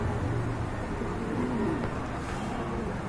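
Many pigeons coo together in a dense, continuous murmur at a market for fancy pigeons, the steady chorus filling the clip without pause.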